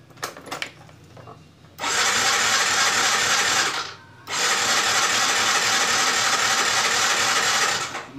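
A Yamaha Mio motorcycle engine is cranked without catching: two long, loud, steady mechanical starter runs, split by a brief pause, over faint background clatter.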